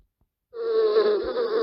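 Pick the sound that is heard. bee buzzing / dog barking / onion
bee buzzing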